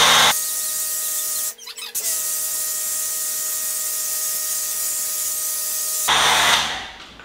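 A loud, steady hiss of water spraying onto a 2019 Camaro SS with a faint motor whine underneath, cutting out briefly before starting again, then tapering off at the end.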